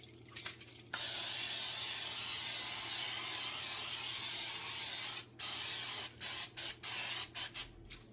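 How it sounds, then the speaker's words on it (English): A long continuous spray hiss from an aerosol can of cooking spray onto a pan, followed by several short bursts in quick succession, close and loud. "So now let me spray this pan."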